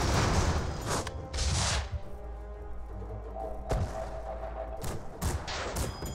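Airship guns fire in the video game Airships: Conquer the Skies, with repeated loud bursts and booming volleys separated by brief lulls over a low rumbling background.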